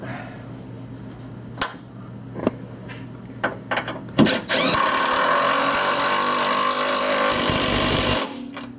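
A few clanks and taps, then an impact wrench hammers continuously for several seconds on a 2000 Dodge Durango, loud and close, before stopping abruptly.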